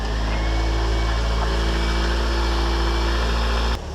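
A Toyota AE86 engine idles steadily while warming up, a loud, close, even rumble with constant vibration that cuts off abruptly near the end.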